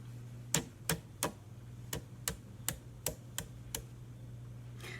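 Sharp, evenly spaced taps on a clay pot spinning on a pottery wheel, about ten light knocks in steady rhythm over a constant low motor hum, close and fairly quiet.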